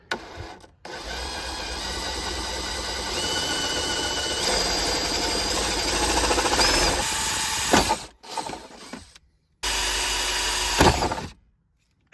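A power drill with a center bit whines steadily for several seconds, bites through a hard car center console, stops briefly, then runs again in a shorter burst.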